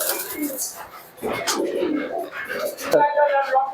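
A pair of Giribaz pigeons coos in low, rolling phrases at close range, the soft calls repeating through most of the stretch alongside someone talking over them.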